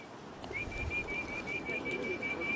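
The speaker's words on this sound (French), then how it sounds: "le pigeon" Pigeons coo in old Beijing with a steady, faint call over quiet outdoor background noise.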